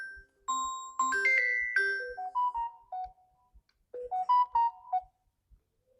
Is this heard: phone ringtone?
yes